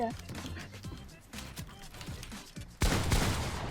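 Gunfire from the video game Fortnite bursts in loudly near the end, a dense volley following a stretch of game sounds and excited talk.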